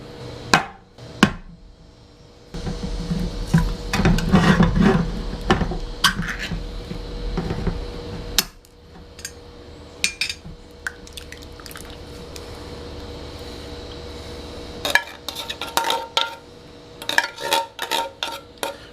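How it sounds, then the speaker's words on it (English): Noodles drained through a canteen cup lid, with a splashing, pouring rush of water and metallic clinks of the lid against the cup, then sparse drips and taps close by. "I'm just going to drain them using the old Canteen Cup lid today."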